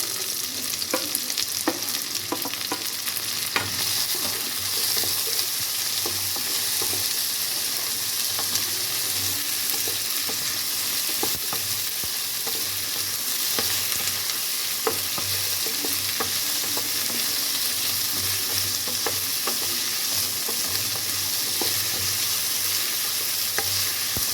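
Cut okra sizzles in a pan with softened tomato and onion for a thick okra relish, a constant moderate frying hiss broken by occasional scraping and stirring clicks from a utensil.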